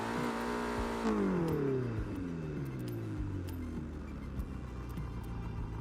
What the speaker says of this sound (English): Exhaust makes the car sound a bit different.